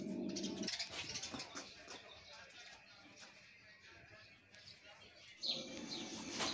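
Small birds chirp and call while pecking at seeds scattered for chickens in the midday afternoon, bright tweets coming and going over a quiet outdoor background, with brief stretches of faint noise between calls.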